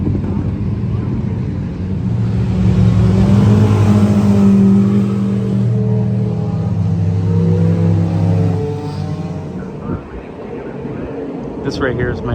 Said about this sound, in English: you're so close to the cars as they enter the bus stop here that's at the end of the straightaway